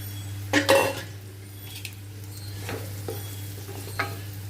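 Cut bhajiya pieces are stirred in a pan of fried garlic and turmeric, giving a low steady sizzle with a few clinks and scrapes of a spoon against the pan.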